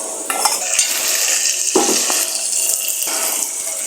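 Onions and green chillies fry in a pan with a loud, dense, steady sizzle close by. A few brief clinks and scrapes of a spoon stirring break through, no voices.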